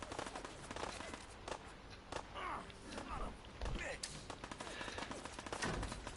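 Gunfire in the video game Fallout 4 comes as scattered sharp shots and thuds at moderate distance, fairly quiet, with a voice talking over it.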